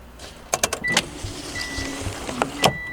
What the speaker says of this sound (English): Automatic seat belts?